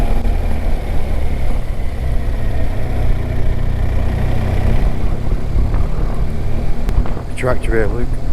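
Engine of a tractor on a road near Birker Fell, a steady low rumble running throughout, with people talking over it near the end.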